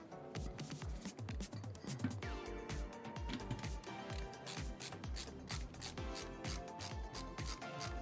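An electric precision screwdriver drives screws into a Phanteks Evolv X2 Matrix case during a gaming PC build. Close, busy ratcheting and clicking runs steadily throughout, mixed with light rubbing of parts and no talk.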